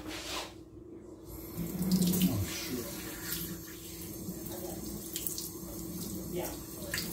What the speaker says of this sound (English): Rinsing the spoon off.